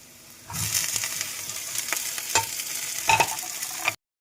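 Cut okra (lady's finger) dropped into a pan with softened onions and chilli, frying with a steady broadband sizzle and a few stirring scrapes, close and moderately loud, then cutting off abruptly.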